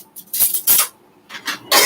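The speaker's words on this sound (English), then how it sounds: "So I'm stirring in my collagen powder and my sweet creamer in my herbal mint tea this morning" Spoon stirring collagen powder and sweet creamer into a mug of herbal mint tea, a few bright clinking bursts in quick separate rounds, close and fairly loud with no talk.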